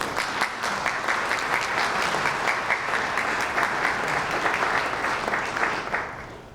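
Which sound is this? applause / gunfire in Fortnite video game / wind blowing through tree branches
applause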